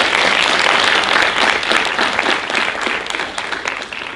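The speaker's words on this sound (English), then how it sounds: "Please can we give them a round of applause" Audience applause at the close of a panel talk event, dense steady clapping from a crowd that holds strong throughout and tapers slightly near the end.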